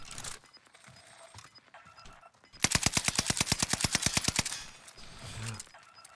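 Rapid pistol gunfire in a video game, a fast loud burst of about twenty evenly spaced shots lasting a couple of seconds, framed by quieter game sounds before and after.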